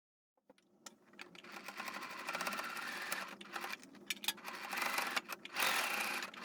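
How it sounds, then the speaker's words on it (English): A sewing machine stitches along the edges of a circle skirt, a close, continuous whirring run that builds after a few starting clicks and carries on with brief pauses and small knocks. "I just gonna sew on the edges and keep moving"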